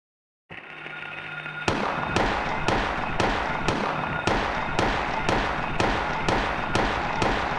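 Gunshots in the Silent Hill video game: a steady series of about a dozen sharp, loud shots fired at an even rhythm after a brief low hum, with no talk over them.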